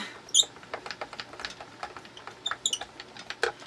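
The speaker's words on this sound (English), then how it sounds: "Bring the Texture Boutique in so it squeaks, squeaks, squeaks." Squeaking from a Texture Boutique embossing machine as a card is cranked through, a run of short, close squeaks and ticking clicks in an irregular rhythm with no talking.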